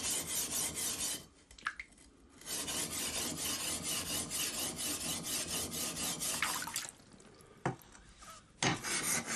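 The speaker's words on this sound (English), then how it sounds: "He corrects the shape of the blade, using coarse grindstones to remove any excess surface metal." A samurai sword blade is rubbed back and forth on a coarse grindstone with water, long rasping strokes repeating in rhythm with brief pauses between them.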